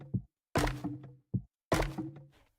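Video game sound effect for breaking a cactus, two paired hits each made of a short dull knock followed by a hollow, bamboo-like wooden thunk, clean and isolated.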